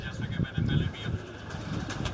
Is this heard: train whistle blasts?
no